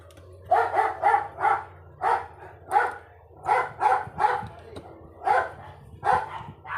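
A dog barks repeatedly in short bursts of two or three, loud and close, in a home where a Vivo V5 phone is being repaired, with a low hum underneath.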